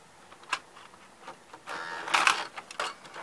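A VHS tape loads into an older Samsung VCR: scattered mechanical clicks, then a whirring, clattering motor burst as the mechanism draws the cassette in, close and fairly quiet.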